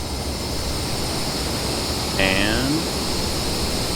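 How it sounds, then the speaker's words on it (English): An F/A-18 Super Hornet's engines roar at full throttle with afterburner for a catapult takeoff at NAS Pensacola in a flight simulator game. A constant, dense, loud roar holds throughout, with a brief voice rising over it partway through. "Full throttle, full afterburner."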